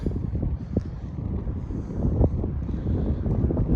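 Strong wind gusts at a canyon overlook in the Colorado and Utah region buffet the microphone, making a continuous low rumbling roar that swells and fades.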